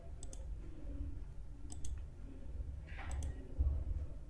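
Mouse double-clicks on a computer while launching the WinHex installer: three crisp pairs of quick, close clicks spaced a second or so apart, over a low steady room hum with no talking.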